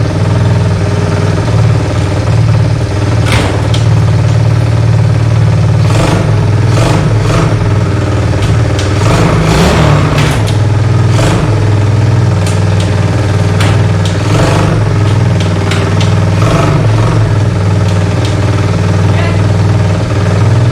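A Chinese 110cc ATV that sat outside for a couple of years runs loudly up close, its small engine idling with a steady drone and repeated revving bursts.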